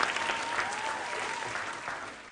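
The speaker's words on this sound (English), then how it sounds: "A round of applause for the contestants." Audience applause for contestants on a school quiz show, a brisk, full burst of clapping from a gathered crowd, steady throughout with a faint tone running underneath.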